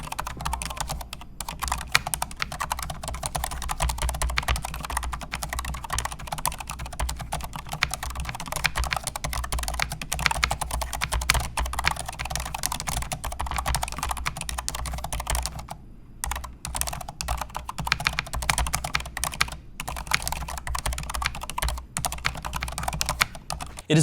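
Fast, continuous typing on a Razer DeathStalker V2 Pro wireless keyboard with low-profile linear switches, a soft, dense patter of key presses with a few short pauses.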